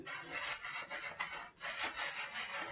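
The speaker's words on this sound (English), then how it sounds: "Rubbing my scalp." Fingers rub a scalp during wash-day hair detangling with shampoo, a soft, close, continuous scrubbing rasp that pulses in strokes, with no voices.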